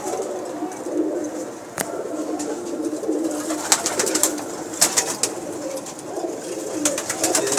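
Pigeons coo in low, repeated murmurs, with sharp clicks and rustles throughout, near and fairly loud, with no talk.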